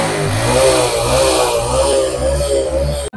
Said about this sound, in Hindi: करते हैं बाइक को स्टार्ट देखिए बाइक को स्टार्ट किया